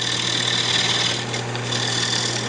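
Carbide-tip cutter shearing wood on a lathe while making a clean cut on a wooden clutch project: a steady, loud, continuous rasping whir with a constant motor hum beneath, alone and unbroken throughout.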